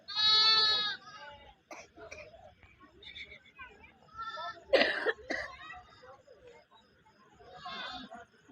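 Sheep and lambs at a pastoral flock bleat nearby, a loud opening cry followed by scattered shorter bleats and a few louder calls, mixed with people chanting and talking.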